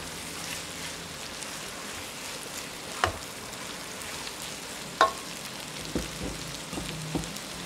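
Tempeh frying in a pan of hot oil during home cooking, a steady soft crackling sizzle throughout with a few sharper pops and clatters, close and fairly quiet, no talking.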